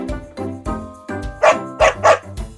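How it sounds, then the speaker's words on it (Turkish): A farm dog barks about six times in an irregular series, loud and close, the later barks sharper and more forceful than the first few. "Köpek hav hav diye ses çıkarır."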